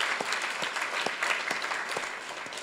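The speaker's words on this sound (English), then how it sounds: "could we have a round of applause for Dr." Audience applause at a poster awards ceremony, moderately loud and even, a crowd of many hands clapping steadily with a few sharper individual claps standing out.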